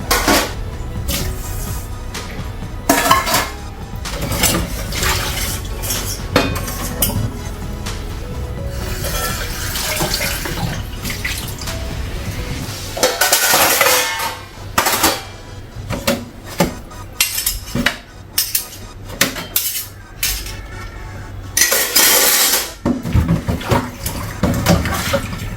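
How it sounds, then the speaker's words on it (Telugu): Dishes and pans are pre-rinsed in a kitchen sink before going into a dishwasher: running tap water splashes while metal utensils clatter and clink in irregular bursts, close and fairly loud. "సో గిన్నెలన్నీ ఇట్లాగా కొంచెం వాష్ చేసి పెట్టేస్తే సరిపోతుంది"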